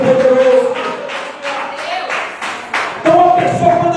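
Church congregation at a Pentecostal service applauding in praise, bursts of clapping mixed with loud, sustained voices calling out throughout.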